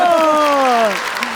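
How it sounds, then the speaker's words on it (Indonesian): Studio audience applause on an Indonesian celebrity comedy show keeps up as a steady clatter beneath a voice, close and loud, then thins slightly toward the end. "Tepuk tangan buat Ajis dan juga Anyo."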